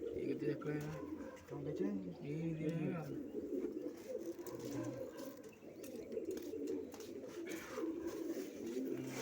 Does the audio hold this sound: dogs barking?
no